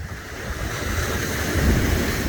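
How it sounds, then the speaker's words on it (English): Ocean waves roll in outside a beach villa in Punta Cana, a broad, steady wash of surf with wind buffeting the microphone, swelling slightly near the end. "we hear the waves all night"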